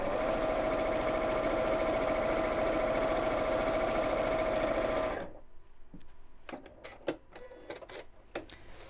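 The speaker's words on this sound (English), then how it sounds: "And again we'll sew straight across here." A sewing machine stitching straight across a fabric bottle gift bag, a loud steady whirring hum for about five seconds before stopping, followed by a few soft clicks and handling taps.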